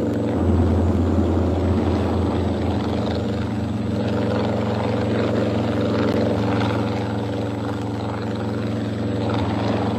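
Helicopters flying toward snowbound villages with emergency aid supplies during the harsh 1985 winter in Kukës, Albania; a steady, loud rotor and engine drone fills the whole stretch without pause.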